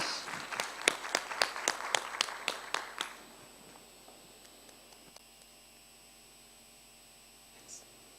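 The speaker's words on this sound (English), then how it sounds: "a round of applause for Prof as he leaves the stage" Audience at a cancer conference in Kenya claps for a departing professor, a short burst of distinct rhythmic claps that stops after about three seconds, leaving quiet room hum.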